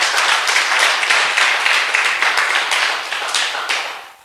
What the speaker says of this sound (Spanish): Dele un fuerte aplauso ahí al Señor,